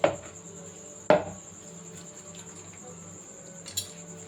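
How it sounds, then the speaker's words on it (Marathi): A knife chops tender spinach stems on a board for palak pakode, two sharp close knocks at the start and again near one second, then quiet with a faint clack near the end. "ह्या दांड्या ज्या आहे थोड्या बारीक बारीक चिरून घ्यायच्या"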